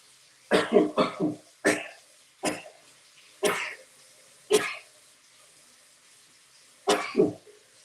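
A man shaving off his beard lets out a string of loud, explosive sneeze-like bursts, some in quick pairs and others spaced a second or more apart, with quiet gaps between them.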